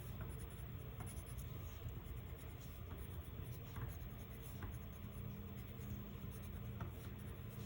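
Steady scratchy strokes of a marker or crayon drawing short grass lines on paper for a classroom picture, close and continuous with no talking.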